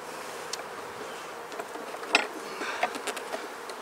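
Honeybees swarm over an open, crowded, healthy hive during an inspection, a steady close buzzing with scattered louder passes of individual bees near the ear.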